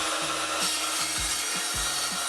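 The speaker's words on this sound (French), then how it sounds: "On les coupe à la scie plongeante" Plunge saw cutting through a light Panterre wall panel during a renovation, giving a steady rasping, woody cutting noise with low rhythmic judders repeating about every half second, close and moderately loud.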